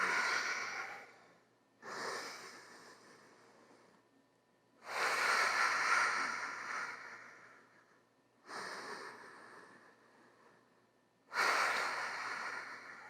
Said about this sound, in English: breathe deeply in and out through the nose.